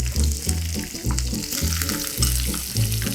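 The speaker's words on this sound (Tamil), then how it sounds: "ஸோ இந்த வெங்காயத்தை வந்து கொஞ்சம் நல்லா ப்ரௌனாகவே நம்ம பண்ணிக்கலாம்" Onions fry in oil in a kadai, browning with a loud, constant crackling sizzle that swells and eases in uneven bursts as they are stirred close by.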